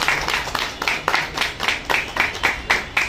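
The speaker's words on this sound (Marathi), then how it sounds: "टाळ्या वाजल्या पाहिजे जोरदार" Audience clapping at a journalism award ceremony, rhythmic unison claps in regular bursts about three per second, fairly loud and close.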